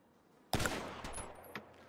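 A single sharp gunshot cracks out in a GTA roleplay game after a short quiet lead-in, then rings off and decays over the next second.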